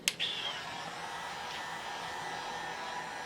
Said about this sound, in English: So now, I'm gonna hit it with the heat gun.